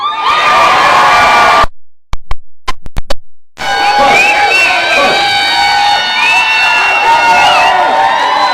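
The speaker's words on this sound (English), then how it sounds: "the biggest applause that I get consistently anywhere I am in Dallas is simply by saying Clay Jenkins" A crowd at a Mother's Day town hall in Richardson cheers and whoops loudly, breaks into a few sharp knocking hits with brief silence between them, then swells back into sustained shouting and clapping.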